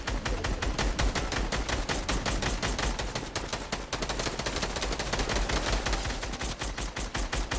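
Rapid, continuous automatic gunfire in the battle royale video game Fortnite, dense bursts of shots filling the whole stretch loudly with no pauses.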